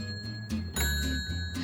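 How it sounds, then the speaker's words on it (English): Several bright bell dings struck in an uneven rhythm by a wind-up mechanical music machine, ringing over a low mechanical hum. "what makes this thing really, really cool is this also has bells"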